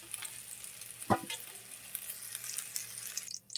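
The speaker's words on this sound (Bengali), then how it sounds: "এই মাছের তেলে রোলটা ভেজে নেব" Fish rohu pieces frying in fish oil in a pan give a steady close sizzle throughout, with a sharp clatter near the start and a brief splash toward the end.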